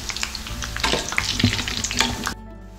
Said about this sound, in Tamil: சலசலப்பெல்லாம் அடங்கினது உடனே எடுத்துடலாம்.